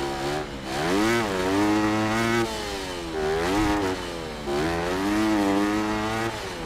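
Motorcycle engine revving in the Monster Energy Supercross 6 video game, a loud buzzing motor rising and falling in pitch through repeated throttle blips and sustained high revs, with no talk over it.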